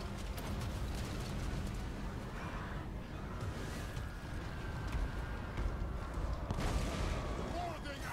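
Cannon booms and machine-gun fire rumble through a Total War: Warhammer 2 battle, a dense continuous roar of distant volleys and impacts as someone talks over it.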